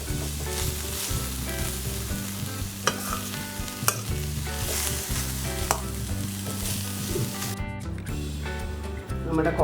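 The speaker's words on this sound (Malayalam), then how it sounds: "നമ്മുടെ കോളിഫ്ലവറൊക്കെ നല്ലപോലെ വെന്തുമ്പോൾ ഇങ്ങനെ ഇടയ്ക്കിടയ്ക്ക് നമ്മളൊന്ന് ഇളക്കി ഒരു 5 മിനിറ്റ് വെക്കണം" Cauliflower sizzles and fries steadily in a pan while being stirred with a utensil, producing close scraping and clinking over a continuous crackling sizzle, with no talking.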